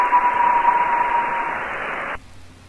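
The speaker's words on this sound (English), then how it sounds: "When a meteor passes over the facility, the echo sounds like this." Meteor radar echo picked up from a U.S. Air Force space surveillance radar in Texas and played over a live radio feed: a steady hiss of radio static carrying a thin, faint tone that fades out, then a sudden drop to near silence.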